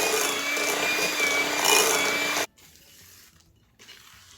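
Egg being mixed into German chocolate cake batter with a scraping, rubbing stir that runs steady and fairly loud, then stops abruptly and gives way to quieter, fainter handling sounds.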